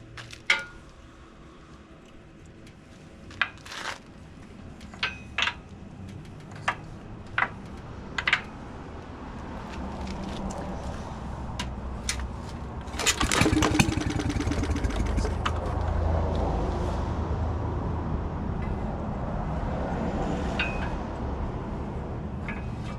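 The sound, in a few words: pull-starting a Maytag Model 72 engine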